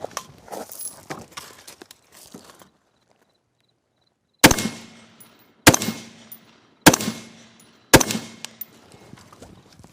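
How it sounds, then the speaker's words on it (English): After a stretch of faint rustling and silence, four loud, evenly spaced gunshots ring out from a shooter at an exterior vehicle shooting position, each crack with a short echoing decay. "All right, let's go ahead and shoot this shot."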